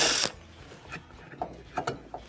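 A bolt is loosened from a washing machine's stator assembly during repair: a short burst of noise opens, then a series of sharp ratcheting clicks and mechanical knocks follows, close and moderately loud.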